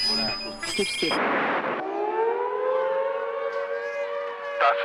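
A loud civil defense siren winds up and holds a long, steady wail after a burst of noisy broadcast sound.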